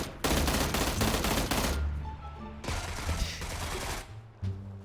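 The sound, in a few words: gunfire shooting parts off a truck in PUBG video game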